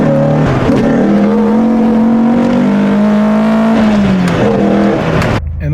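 A Renault Clio 172 hot hatch driven hard, its engine droning loud and close as it accelerates and revs, pitch climbing and easing off before a sudden lift near the end.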